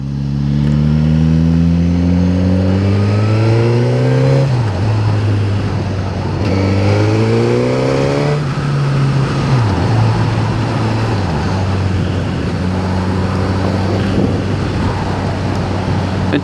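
A 2016 Suzuki GSX-S1000 engine drones steadily while riding, pitch climbing through the gears with brief dips at each shift, under constant loud wind noise.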